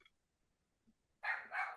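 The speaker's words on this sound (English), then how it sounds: "dogs are barking, so I'm drinking." Dogs bark in two quick, close yips at the end, after a near-silent stretch with a faint sound at the very start.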